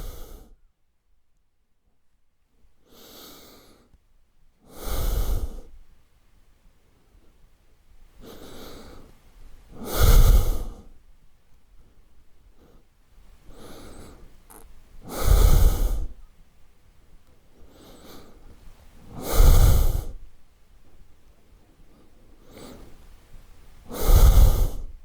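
Slow, deep breaths during a gentle prone-lying Pilates routine, with loud exhales recurring roughly every five seconds and softer inhales between them, close to the microphone.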